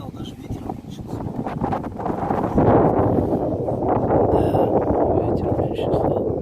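Steady wind buffeting a microphone outdoors during repair work on a Volvo F12 engine, a loud continuous rumbling roar that swells after a couple of seconds and stays strong to the end.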